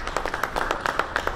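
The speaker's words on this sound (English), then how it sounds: "let's give her a big round of applause" Audience applause at a civic event for the Painted Piano Project, a scattering of individual claps with distinct sharp hits at an irregular, fairly quick pace, close and moderately loud, with no talking over it.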